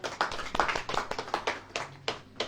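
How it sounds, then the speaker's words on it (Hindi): Clapping from a congregation during a Hindi sermon, with irregular bursts of hand claps that come in uneven clusters, fairly close and moderately loud, with no voices over them. "ताली बजाओ, ताली बजाओ।"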